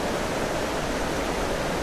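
Fast-running stream tumbling at a woodland waterfall at Craflwyn near Beddgelert, North Wales, a dense steady rushing hiss, close and continuous with no voices.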